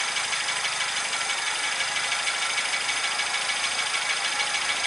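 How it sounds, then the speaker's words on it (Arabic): A car engine idles steadily under hood-open conditions while its carburetor air screw is adjusted, giving a continuous mid-pitched hum with slight rhythmic roughness and no talking. "نسكر الدار على الاخر لين يولي يرعش الموتور وانا نحلو شوي لين يرتاح"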